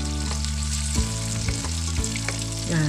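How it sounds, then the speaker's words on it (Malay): Potato chunks frying in a pan of hot oil for sambal, a loud continuous sizzle close by with occasional stirring clatter, no voices. "Okey, kita goreng sikit lagi."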